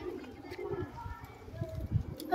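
Low, soft pigeon cooing repeating nearby, with faint background voices and some rustling.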